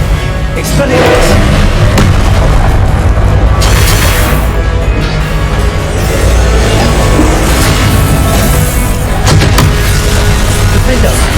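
Confringo fire spell explosions in the Hogwarts Legacy video game amid combat, a run of heavy booming blasts and thuds spread across the stretch, loud and dense, with shouted spell callouts mixed in.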